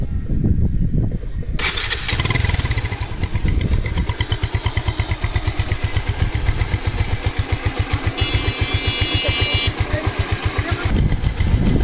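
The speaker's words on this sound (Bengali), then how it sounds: "গাড়ির ইঞ্জিনের সাউন্ডটা আপনাদের শোনাচ্ছি। তো গাড়িটা আমরা স্টার্ট দিচ্ছি।" A Bajaj Pulsar motorcycle with a repaired tappet and a renewed headlight is kicked or cranked to life, then settles into a steady, rapid idle thump that carries on for about nine seconds before cutting off, close to the microphone, with no talking.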